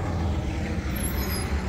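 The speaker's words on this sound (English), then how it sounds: "our bus friend is taking off." A diesel bus pulls away nearby, a steady low engine rumble filling the background with faint traffic noise and a brief hiss that could be an air brake.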